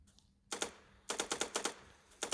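Gunfire in the Counter-Strike video game: quick bursts of rapid shots, a short burst, then a longer rattling series and a final pair, moderately loud with no talking.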